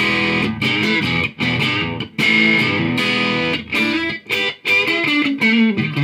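Electric guitar played through the distortion channel of a Bugera V55 amp head: a sequence of crunchy, saturated chords and riffs with brief gaps between phrases, loud and close, no voices.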